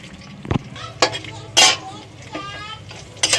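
Potatoes with a little salt fry in a pan with a steady low sizzle while a utensil scrapes and clanks against the pan in several sharp strokes.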